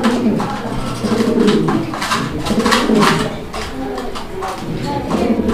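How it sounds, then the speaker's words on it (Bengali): Black Mundian racing pigeons cooing close by in a loft, a continuous layered low burbling from several birds with some shuffling, no talk. "দর্শক আমরা এই মুহূর্তে দেখতে পাচ্ছি এখানে আরো এক জোড়া কবুতর।"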